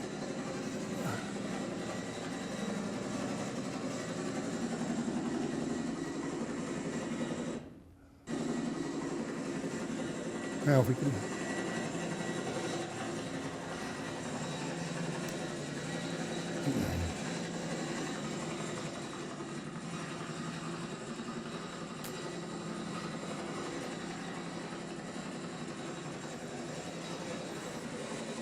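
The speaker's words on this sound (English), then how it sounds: "This sounds like a Chinook hovering." A played recording of a Chinook twin-rotor helicopter hovering fills a library event room with a low, steady, fairly faint drone and rumble, with someone talking over it and one brief dropout partway through.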